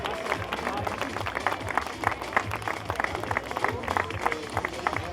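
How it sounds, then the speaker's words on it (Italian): An outdoor crowd at a half-marathon awards ceremony claps steadily, with a busy patter of hands over a low murmur of voices and background bustle. "applausi!"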